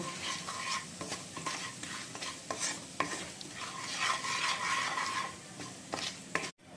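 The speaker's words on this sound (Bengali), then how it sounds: "এখন মশলাটা একবার ভালো করে ভেজে নেব" Ground coriander and cumin fry and get stirred in a pan for a chicken curry, giving a steady sizzle with scraping stir strokes throughout, close and alone with no voices.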